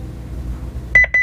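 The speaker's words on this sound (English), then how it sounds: "Double beep." A Honeywell Lynx Touch L5210 alarm system panel gives a double beep, two short bright electronic tones in quick succession after a quiet low background hum.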